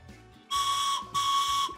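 A whistle blown in two strong steady blasts, each about half a second long, loud, shrill and close, with a brief gap between them and a faint hum underneath.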